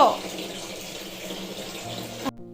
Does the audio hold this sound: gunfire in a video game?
no